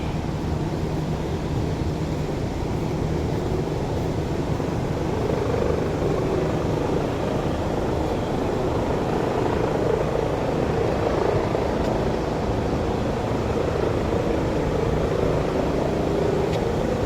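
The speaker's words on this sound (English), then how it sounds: "Helicopters." A helicopter flies overhead near a hospital, its loud, steady rotor drone filling the whole stretch without letting up, with no talk over it.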